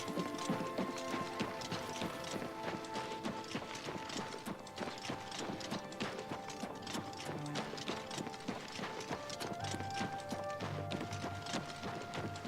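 Quick, regular horse hoof clip-clops in Oblivion Remastered trot along steadily at moderate distance under light ambient music, with no talking.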